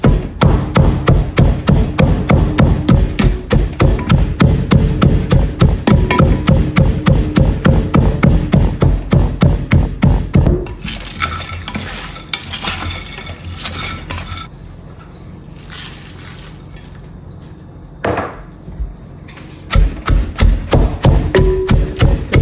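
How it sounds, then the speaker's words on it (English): Salted cabbage bruised in a sauerkraut crock, with rapid, steady, close pounding thumps for about ten seconds, then quieter scattered knocks and rustles, and a final burst of thumping. "So you're just bruising the cabbage, trying to release all that liquid"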